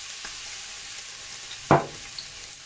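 Pork fried rice with dark soy sauce sizzles in a hot pan: a steady, fairly quiet hiss broken by one short, sharp burst of sizzle partway through.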